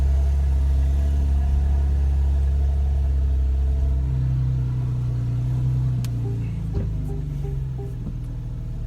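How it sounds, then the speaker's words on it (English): A 2018 Porsche 911 Carrera T idles and rolls out of a garage, its cold engine giving a deep steady rumble up close that shifts in pitch midway, followed by a few light clicks and knocks. "Driving out of my garage, give it a little spin on the road."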